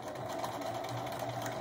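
A sewing machine stitches fabric while making a spool, a steady close mechanical whir with a rapid rhythmic needle beat throughout, quiet and alone with no talking.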